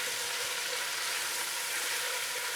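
Goulash frying in a pot with a generous amount of paprika powder as it is stirred, a steady close hiss of sizzling fat with no talking.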